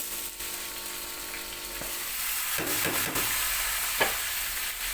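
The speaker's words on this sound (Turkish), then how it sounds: "Şimdi pirincini içerisine alıyorum." Rice tipped into butter with toasted vermicelli for a Turkish pilaf, sizzling steadily in the pan with a few scraping stirs and clinks, close and alone without talk.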